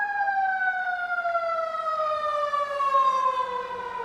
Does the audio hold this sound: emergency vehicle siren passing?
yes